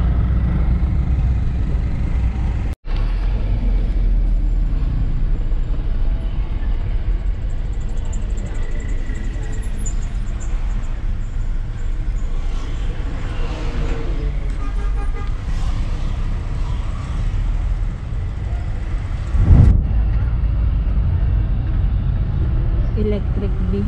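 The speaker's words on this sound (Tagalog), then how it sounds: "Sobrang traffic." Heavy road traffic in Nepal rumbles steadily and loudly, with car horns tooting now and then in a dense, congested street scene.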